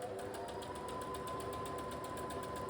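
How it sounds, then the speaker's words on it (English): A sewing machine stitching a channel through the overlocked seam allowance of a stretch mesh dress, running steadily and evenly at a close, moderate level throughout. "When you sew the channel, you just want to sew so that you catch the overlocking."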